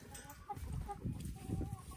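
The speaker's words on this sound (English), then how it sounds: "we're going to be over here at the chickens" Backyard chickens, a mix of buff and red hens, clucking close by in a steady run of low, overlapping calls with no talk over them.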